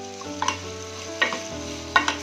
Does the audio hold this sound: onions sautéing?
yes